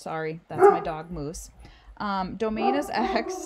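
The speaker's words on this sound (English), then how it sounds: "Sorry, that's my dog" A pet dog barks briefly near the start, mixed in with a person teaching a math lesson, whose talk carries on over and after the bark.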